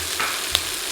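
Brown sugar is stirred into beef ribs sizzling in a hot pan, a brief, close, steady frying hiss with a single sharp tap of the utensil.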